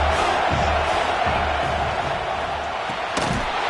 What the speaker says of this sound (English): Big third down as the crowd gets behind this defense.